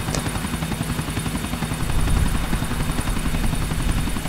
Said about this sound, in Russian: Высадите Джейкоба на вертолетной площадке.